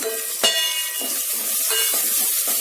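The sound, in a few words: tomato frying with masala powders for chicken biryani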